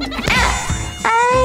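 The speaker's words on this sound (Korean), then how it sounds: "모기가 있잖아." A cartoon-style mosquito buzz from a children's animal app: a loud, close, high whining drone that wavers in pitch, breaks off briefly, then returns.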